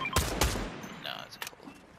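Gunfire in the video game Fortnite: two sharp, loud shots burst out near the start, then quieter scattered reports and bursts trail off over the following second.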